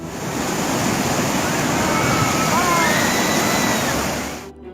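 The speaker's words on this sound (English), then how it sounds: "A white car drove straight through the flood." A white car plows through rushing flood water amid roaring, surf-like broadband wash and gusting wind at 80 mph; the loud, continuous torrent holds steady for about four seconds before cutting off abruptly.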